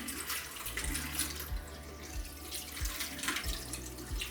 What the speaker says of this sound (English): After this time, I rinse the henna with warm water.